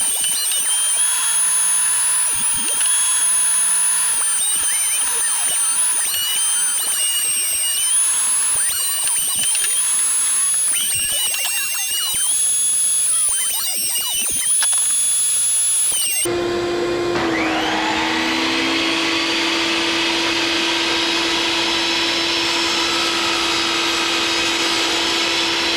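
A DeWalt planer with a dust collection bag runs in a loud, steady whine and roar as it planes wood, then shifts to a harsher, broader rush of noise for the remainder.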